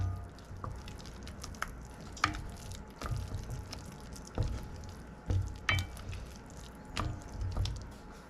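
Flour being stirred into melted butter in a pan while making scalloped potatoes and ham, heard as soft scraping and light sizzling with irregular stirring strokes, close and fairly quiet, with no talking.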